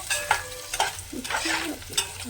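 A drumstick (moringa) curry fries on a low flame with soft sizzling under several distinct stirring scrapes of a spoon against the pan, close and intermittent.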